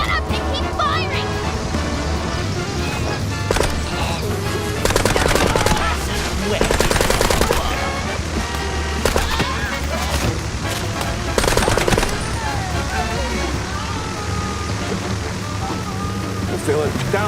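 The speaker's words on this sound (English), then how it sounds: "Just shut up and keep firing!" Rapid machine-gun bursts and gunfire crackle in the noir detective video game Mouse P.I. for Hire, loud and sustained with repeated volleys, layered under shouted character dialogue.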